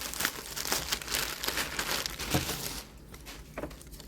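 Plastic package wrapping crinkling as a baby gift order is opened, a steady close rustle of handling that drops off partway and then returns in a few softer crackles.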